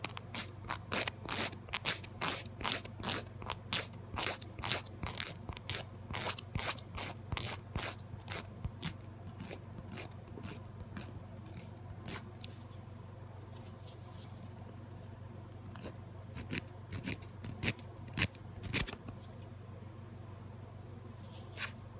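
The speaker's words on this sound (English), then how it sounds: "That's kind of what you're doing with the file in the edge of your nail." A nail file rasps against the edge of a Jamberry nail wrap in quick, close, repeated strokes, busy at first, then pausing and resuming in shorter scratchy bursts.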